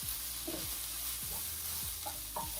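Vegetables are folded into a creamy white sauce, with a soft continuous sizzle and several gentle, wet scraping sweeps of a spoon at an easy pace.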